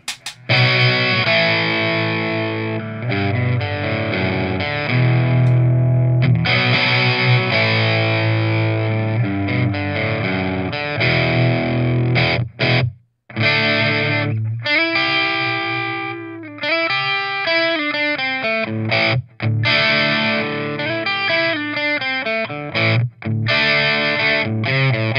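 Electric guitar through a Dynacomp compressor pedal set to mimic tube amp sag, playing a steady, sustained chord-and-riff passage with an even, squeezed loudness and slight grit, continuing without pause apart from one brief gap.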